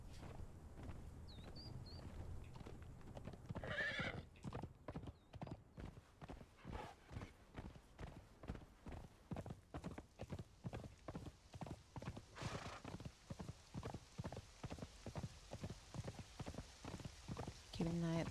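Horse hooves clip-clop in a steady, regular gallop rhythm while riding in the Conan Exiles video game in rain, close and continuous over soft wind, with a brief whinny early on.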